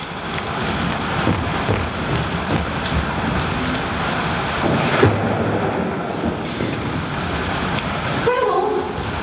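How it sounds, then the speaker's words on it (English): Stage thunderstorm effect in a high school production of The Sound of Music: steady loud rain-like hiss and rumble throughout, with a sharper thunder crack near the middle and a voice briefly emerging near the end. "You're not afraid of thunderstorms, are you?"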